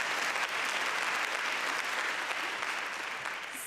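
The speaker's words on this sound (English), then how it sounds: "please clap." Steady applause from an audience at a college honors convocation, greeting the winner of a criminology award; dense, sustained clapping fills the whole stretch with no talk over it.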